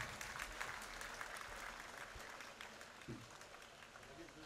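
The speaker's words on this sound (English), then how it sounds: "A big round of applause for the students of MCA department" At a university convocation ceremony, a large audience claps in a steady, continuous round of applause, with some crowd noise mixed in.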